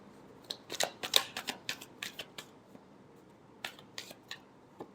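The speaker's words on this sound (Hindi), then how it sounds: "Last shuffle." A deck of tarot cards is shuffled close by in quick bursts of crisp riffling flicks, loudest near the start, then a pause before a few softer final snaps.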